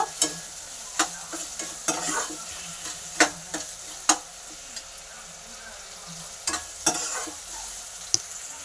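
Mustard seeds splutter in hot oil in a home kitchen pan: a low sizzle broken by sharp, irregular pops and crackles, some close and loud, scattered across the whole stretch.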